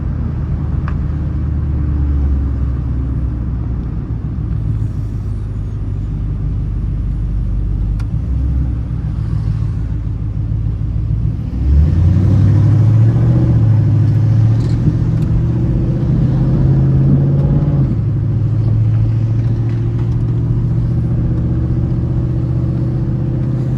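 Car engine runs with a steady low rumble that rises partway through as the revs climb, then holds a higher, louder drone, heard close and without talk.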